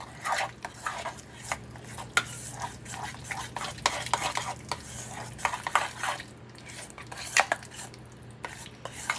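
Spoon stirring plantain muffin batter in a bowl: repeated scraping and clacking strokes in an uneven rhythm, close and moderately loud, with no talking.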